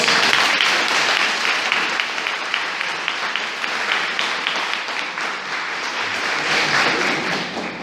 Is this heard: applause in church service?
yes